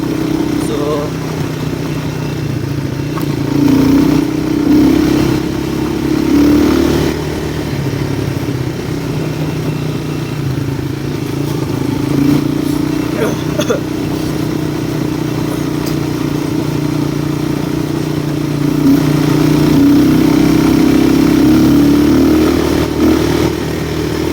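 A motorcycle engine runs steadily throughout with a loud, continuous low drone and a slight clattering edge that swells at times.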